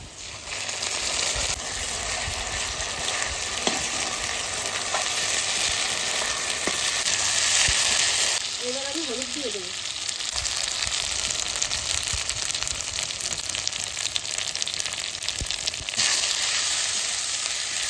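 Spices and onion frying in oil for a chicken curry, a loud steady sizzle running the whole time, with spoon scrapes and stirring knocks, a brief voice in the middle, and the hiss swelling and easing as ingredients go in.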